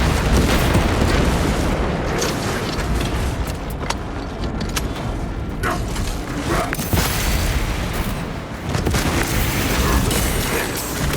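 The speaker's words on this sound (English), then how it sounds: "Unleashing frag grenade." A frag grenade detonates amid heavy combat in Warhammer 40,000: Space Marine 2, with loud booming bursts merged into a dense, continuous roar of gunfire and battle noise throughout.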